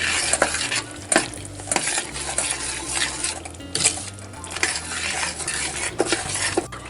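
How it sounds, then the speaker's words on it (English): Peach jam with a large amount of sugar is stirred in a pot, with repeated clinks and scrapes of a spoon against the pot over a faint sizzling bubble, close and continuous. "Mix real well."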